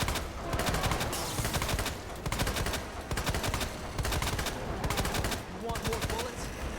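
Rapid bursts of BP-70 gunfire in Resident Evil 2 Remake, loud repeated rattling volleys in several clusters with short gaps, mixed with game sounds and no talk.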